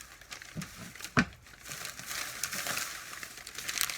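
Wrapping around a square glass trivet crinkles and rustles as it is pulled off, with one sharp crackle near the start and continuous papery rustling after, close and moderately loud, no talking.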